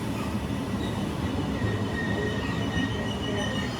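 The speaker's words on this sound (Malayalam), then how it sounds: "അങ്ങനെ ഞങ്ങൾ ട്രെയിൻ എത്തി." Train pulls into a station with a steady rumbling roar and faint wheel squeals, continuous and moderately loud.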